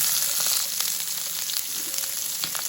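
Thick-cut onions fry in hot oil, giving a steady close crackling sizzle that continues without a break, with a few faint clicks of stirring.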